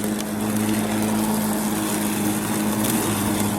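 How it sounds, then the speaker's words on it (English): A Snapper 82V battery-powered lawn mower runs steadily with a constant electric whine and blade whir, mowing along without pause while no one speaks. "It starts spinning up. And then you just start mowing along."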